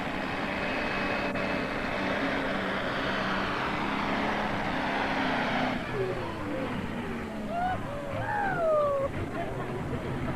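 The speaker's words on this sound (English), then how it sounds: "The Mining for Dollars, Ken Diesel, heading for 300 foot" A diesel pulling truck roars at a truck and tractor pull in Imlay City, Michigan, with a steady loud engine drone that fades, then rising whine sweeps, while crowd chatter runs underneath.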